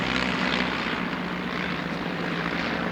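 A loud, continuous propeller-engine drone roars throughout, steady and broad, as civilian airplanes fly close overhead at the 2011 Duxford Autumn Air Display.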